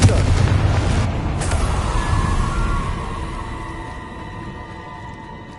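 A Confringo fire-blast spell in the wizarding game Hogwarts Legacy erupts in a loud booming burst, its rumble and crackle slowly fading over several seconds with no talk.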